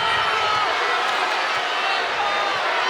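A basketball arena crowd at a Miami vs. Louisville women's college game groans and murmurs in displeasure after a foul goes uncalled, a steady broad roar of many voices holding at one level throughout.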